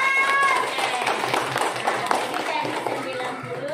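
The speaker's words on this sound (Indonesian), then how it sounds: "Oke, tepuk tangan semua." Students clap together in a classroom after a geometry answer, a brief burst of scattered hand claps mixed with children's voices and a teacher talking.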